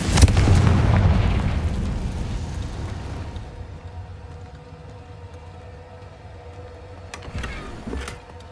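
A Confringo spell explodes in the Hogwarts Legacy video game with a loud, booming blast. Its rumble fades slowly over several seconds before faint bursts return near the end.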